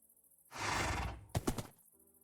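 A horse in the Minecraft video game neighs in a long, loud whinny, then breaks off into a short run of sharp snorting bursts before falling quiet, with no talk over it.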